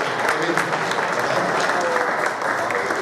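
Event audience applauding attendees at a Zionism gathering in Mexico, dense continuous clapping with crowd murmur mixed in.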